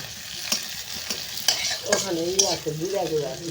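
A spatula stirs garlic frying in a pan, a near sizzle with a few scraping knocks, then a brief voiced murmur toward the end.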